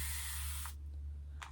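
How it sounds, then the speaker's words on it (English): A continuous mist spray bottle hisses in one long, steady spray of water onto curly hair, close and fairly loud, then cuts off, followed by a couple of faint handling sounds. "it's like a mist spray bottle"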